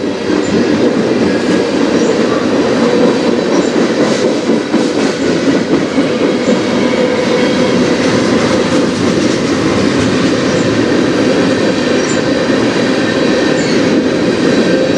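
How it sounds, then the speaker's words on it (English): A train passes on the Strathroy Subdivision railway with a loud, steady rumble and clickety-clack of railcars rolling by up close. Faint wheel squeals rise now and then over the whole stretch. "This will be my last train for today."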